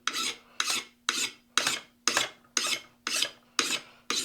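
Hand file rasping rust off a steel axe head in nine steady, evenly spaced strokes, each a bright scraping sweep that fades before the next, close and clear with no talk.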